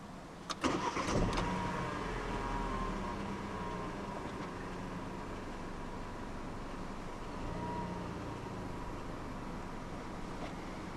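A 2014 Vauxhall Astra GTC 1.4 turbo engine cranks with a few sharp clicks, catches, and settles into a quiet, steady idle heard from inside the car.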